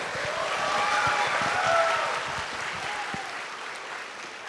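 Warm, sustained clapping from a studio audience fills the space, steady and dense throughout before easing slightly toward the end.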